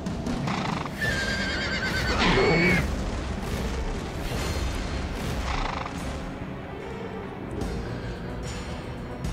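A horse in the video game God of War 2 neighs loudly with a shrill whinny, followed by hoof clip-clop and booming impacts amid dense combat noise.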